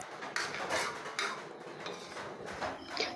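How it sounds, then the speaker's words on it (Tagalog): Soft clinking and scraping of a utensil gently stirring vegetables for kare-kare in a metal pot, with irregular light knocks against the side. "haluin lang natin yan ng dahan-dahan para hindi madurog ang ating mga gulay."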